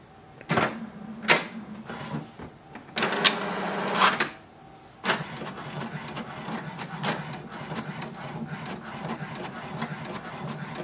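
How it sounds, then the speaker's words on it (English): An HP DeskJet 2752e inkjet printer starts a print job with several mechanical whirs and clunks of paper feeding, then a steady whirring carriage motion runs on close by. "Here we can see it has started to print."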